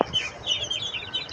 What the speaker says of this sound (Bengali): এই যে ভিউয়ার দেখতে পাচ্ছেন আমার মুরগির বাচ্চা